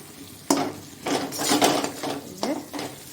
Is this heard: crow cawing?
no